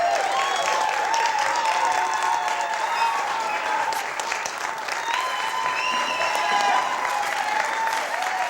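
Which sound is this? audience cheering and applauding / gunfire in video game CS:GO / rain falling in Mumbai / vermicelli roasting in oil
audience cheering and applauding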